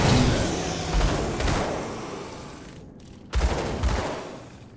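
Rapid dual pistol gunfire in the action RPG Grim Dawn, loud bursts of repeated shots over a dense combat din, with a short pause near the end before another heavy volley.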